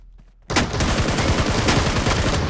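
Heavy, sustained gunfire from the battle royale game PUBG erupts abruptly after a brief quiet moment, a dense loud barrage of rapid shots continuing without pause.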